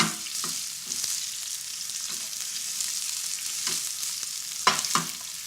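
Runner beans sizzle in hot oil with seeds in a pan, a steady close frying hiss broken by several scraping stirs of a spoon.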